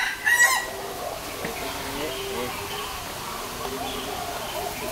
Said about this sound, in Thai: แหมขันโชว์เลยนะอีกทีนึงสิจ้า